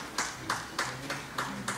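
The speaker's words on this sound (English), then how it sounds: "next door you have clapping, that's the healthcare track" Rhythmic clapping carries over from the healthcare track session in the room next door, six evenly spaced bursts of claps, muffled and moderately distant, set against a low background murmur.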